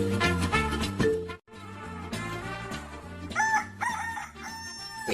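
A rooster crows with a drawn-out cock-a-doodle-doo, loud and close, set in an Ilocano comedy drama amid music and other sounds.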